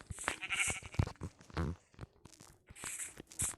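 Minecraft sheep bleat a couple of times amid soft clicks and scuffing footstep sounds, fairly quiet overall.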